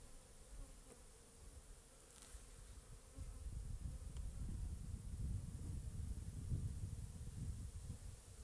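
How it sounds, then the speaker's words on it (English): Honey bees buzzing at a hive in a savanna apiary, a dense, continuous close-up hum that swells louder partway through, with no talking. "There's a lot of bees on the side here."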